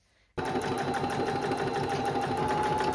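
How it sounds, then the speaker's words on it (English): A sewing machine stitches a hem across a thrifted garment being altered. It starts abruptly and then runs as a steady, close, continuous motor whir with a rapid needle rhythm, with no talking. "I'm going to stitch all the way across"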